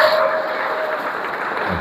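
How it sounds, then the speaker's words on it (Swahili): A church congregation applauds a bishop's sermon, a dense, even wash of many hands clapping at once that holds steady throughout. "Pigeni makofi."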